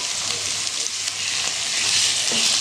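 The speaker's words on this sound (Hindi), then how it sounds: "चिकन को इतना फ्राई करना है कि इसका रंग जो है वो सफ़ेद कलर का हो जाए" Chicken pieces fry in a pan, a steady broadband sizzle running the whole time with a few soft stirring knocks, close and fairly loud, with no talking.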